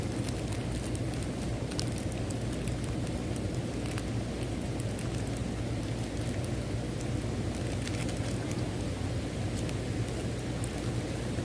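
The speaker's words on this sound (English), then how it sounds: "It's like really raining." Heavy rain pours steadily outdoors, a dense, even hiss that stays constant and fairly close throughout, with no voices over it.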